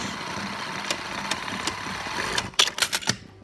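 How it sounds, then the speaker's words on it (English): A sewing machine zigzag-stitches a fabric headband closed, a close mechanical hum with regular clicking ticks, ending in a quick burst of louder rattling stitches before stopping. "And I'm just going to zigzag it closed."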